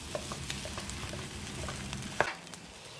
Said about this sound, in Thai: คลุกเคล้าให้เข้ากันอีกรอบค่ะ